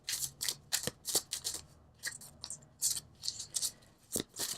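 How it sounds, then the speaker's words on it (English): Tarot cards being shuffled and pulled during a reading: a string of crisp papery flicks and snaps, close and fairly quiet, coming in uneven bursts with short pauses between them. "I'm going to pull 2 more cards for you"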